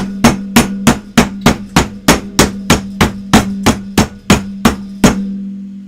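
A meat mallet pounds a steak in a home kitchen with about fifteen evenly spaced, loud, sharp thuds in steady rhythm, close up, each blow ringing briefly before the next.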